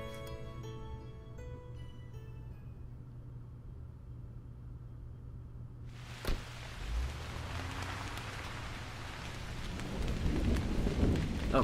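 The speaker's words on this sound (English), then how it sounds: "Oh good, it's raining." Rain falls on Kyoto in the game Tokyo School Life. A soft musical tone fades out, then a sudden crack starts a steady wash of rain with low rumbles that swells louder toward the end, and no one speaks.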